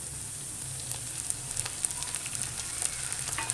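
Chopped garlic frying in a pan for a chicken Alfredo fettuccine sauce, a steady soft sizzle with light crackling pops running throughout, close and moderately quiet, with no talking.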